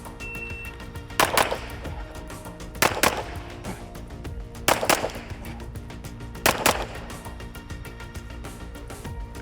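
Gunfire during a shooting movement drill, shots fired in pairs: four sharp double bangs spaced about two seconds apart over low background noise, no talking.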